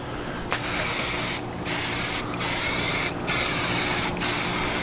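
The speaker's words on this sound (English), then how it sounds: "I'm going to use Crisco spray today." Several short bursts of Crisco cooking oil spray onto grill grates, each a loud hiss lasting about a second, separated by brief pauses, close to the microphone.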